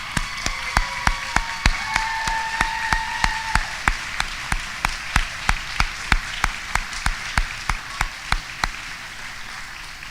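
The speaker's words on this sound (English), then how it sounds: "Let's offer them a round of applause." An audience applauds at a university nurse pinning ceremony with a steady run of sharp, evenly spaced claps that holds for about ten seconds, with faint tones underneath.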